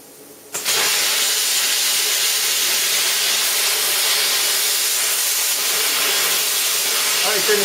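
A two-headed plasma cutter slicing metal, starting abruptly with a loud, steady, rushing hiss that holds unbroken and close for several seconds.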